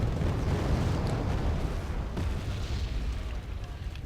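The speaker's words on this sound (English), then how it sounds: "Mortars dropping on them more directly" Mortar rounds land in Wargame: AirLand Battle with a steady, dense rumble of heavy booms and rolling explosions that carries on throughout, loud and continuous.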